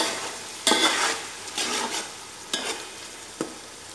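Food cooking in a pot gets stirred, with several distinct spoon scrapes and knocks against the pot over a low background sizzle, and no voices.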